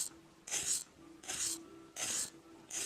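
Sanding block stroked along a knife blade to sharpen it, four quiet, even rasping strokes in a steady rhythm with brief pauses between them, close up.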